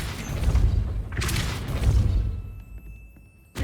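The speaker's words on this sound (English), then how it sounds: "That looks as if it might raise the gate." Stone gate mechanism grinding open in Hogwarts Legacy, a deep booming rumble with heavy thuds that swells for about two seconds, then fades to quiet with a final low knock.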